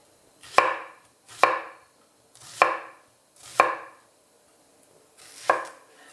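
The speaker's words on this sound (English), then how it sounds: "we're gonna make some nice rings out of the onions" A knife slices yellow onions into rings on a cutting board with five crisp, close chops, spaced roughly a second apart with brief silence between them.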